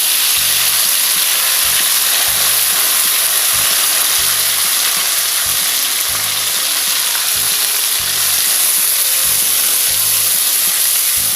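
Pieces of snapper head frying in hot oil for an Indonesian pecak dish, a steady close sizzle and hiss running throughout with a faint rhythmic low thumping underneath.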